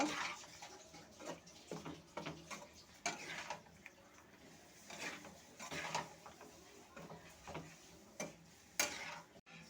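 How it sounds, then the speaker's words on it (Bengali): Bitter Bengali vegetable curry (tetor chorchori) being stirred in a pot after water is added, giving repeated soft scraping and tapping clicks in an irregular rhythm, close and fairly quiet, with no talking. "একটু ধুয়ে জলটা দিয়ে দেবো ভালো করে নেড়ে নেব"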